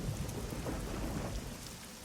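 Rain and thunder in the video game Black Mirror III: a dense wash of steady rainfall with a deep rolling rumble underneath, continuous and fairly close, with no voices.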